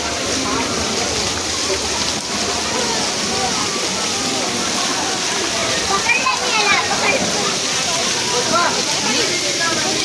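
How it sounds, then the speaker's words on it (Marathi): Water showers down steadily in a water park's DJ dance area, a dense, continuous splashing roar that fills the scene close by, with voices faintly mixed into the spray. "डीजे इथे पूर्ण शावर आहे पाणी"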